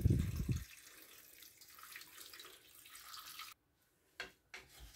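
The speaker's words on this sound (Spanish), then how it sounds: "Luego la tapamos con agua." Water pours from a tap into a cooking pot of washed thistle for a chicken and thistle stew, a steady soft splashing stream that stops abruptly, followed by a couple of small clinks.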